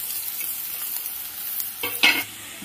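Chopped onion and garlic fry in a pan for chicken khichuri and are stirred. A steady, close sizzle runs throughout, with a louder burst of spoon scraping and clatter near the end.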